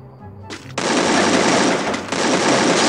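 AK47 Golden Unicorn fire in the Free Fire video game: two long, loud automatic bursts of rapid shots, separated by a brief gap, after a quiet start.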